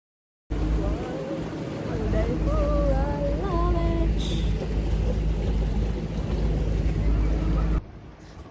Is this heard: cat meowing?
no